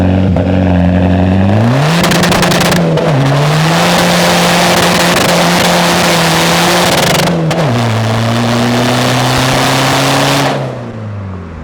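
A modified VW Caddy with a 1.9 TDI diesel engine tuned to about 200 horsepower revs hard and accelerates through several gear changes, loud and close, with rising engine pitch dropping at each shift before easing off at the end.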